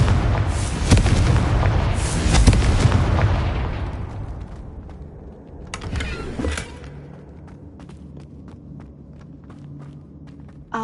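A Confringo blasting spell goes off in the Hogwarts Legacy video game, starting with a loud rumbling burst that slowly fades out. It is followed by a second, smaller blast and some scattered clattering debris.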